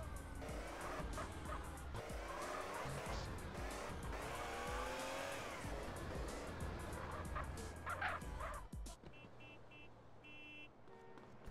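A car in Grand Theft Auto: San Andreas drives hard with a loud, revving engine and squealing tires for most of the stretch, then cuts off into quieter game ambience.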